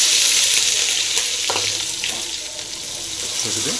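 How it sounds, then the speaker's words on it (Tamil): Curry leaves and crushed garlic frying in hot oil in a home kitchen while a Tamil raw banana dish is made: a loud, steady, close sizzle with faint stirring clatter throughout. "எண்ணெய் காஞ்சிச்சு கருவேலை போட்டுடலாம் கொஞ்சம் இடிச்ச பூண்டு சேர்த்துடலாம்"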